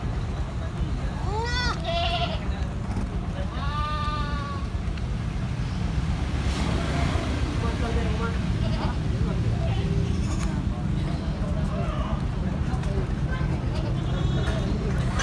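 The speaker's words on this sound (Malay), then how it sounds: "anak kambing yang lagi makan pisang" Goats at a livestock market bleat several times, wavering cries close by, mostly in the first few seconds. A young goat eats a banana nearby while people talk and murmur steadily over a busy background.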